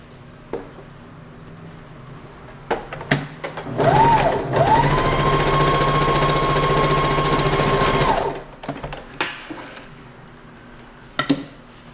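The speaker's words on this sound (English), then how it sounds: "what I'm going to do is I'm just going to top stitch it" A sewing machine top stitching a fabric bow, one loud continuous whirring burst of about four seconds, framed by scattered clicks and fabric handling before and after.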